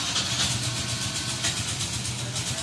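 A Suzuki Nex 110 motorcycle engine idles steadily with a low, even putter and faint rhythmic pulsing, close and quiet, with no talk over it.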